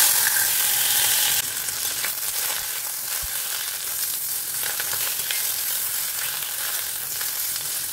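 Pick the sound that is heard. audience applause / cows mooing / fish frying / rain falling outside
fish frying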